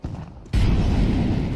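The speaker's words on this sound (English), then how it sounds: "Deploying flashbang." A flashbang grenade goes off in Counter-Strike 2, a sudden loud blast that leaves a dense, sustained ringing roar, with no talking over it.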